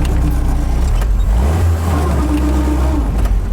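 A 1942 Jeep Willys engine revs hard in a sand pit while in two-wheel drive, loud and close. The roar swells and dips as the throttle is worked, with no voices.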